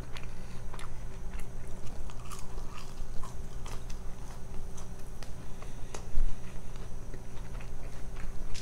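Bites and chewing on the limited-edition BTS McDonald's meal with Cajun sauce, soft crunchy chews repeating close to the mic with no talking.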